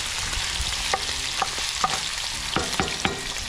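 Ground venison, still partly frozen, browns loudly in a hot pan for chili, a dense continuous sizzle broken by regular scraping strokes of a spatula across the pan.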